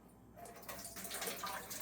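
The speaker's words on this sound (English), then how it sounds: "I'm gonna rinse them" Hot tap water running over freshly picked blueberries in a sink, a steady close rushing stream that swells slightly as the rinse goes on, with no talk.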